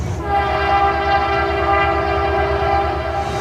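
A CP freight train locomotive on a Rocky Mountain rail line sounds a loud, sustained horn chord over the low rumble of the engine, close and continuous.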